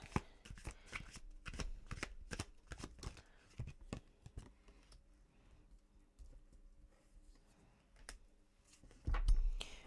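Tarot cards shuffled by hand in a quiet room, a rapid series of crisp riffling bursts that thin out midway and return with a louder flurry at the end.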